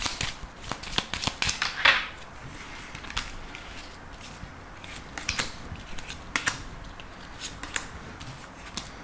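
Tarot cards are shuffled for a draw with quick bright riffles and snaps near the start, then scattered softer card slides and taps, all close and with no speech.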